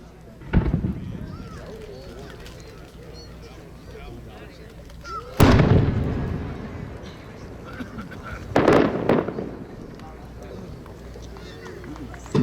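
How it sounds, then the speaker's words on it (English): Several 8-inch aerial firework shells of shells burst in red, orange, gold streamer rings and green at a winter display, three loud booming reports roughly three seconds apart, each echoing and rumbling away over a low background of crowd noise. "It's an 8-inch red, orange with gold, streamer rings, and green shell of shells"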